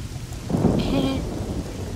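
Rain with a rumble of thunder in the video game Risen 2: steady hiss of rainfall throughout, with a loud, rolling thunderclap swelling from the midpoint and lingering.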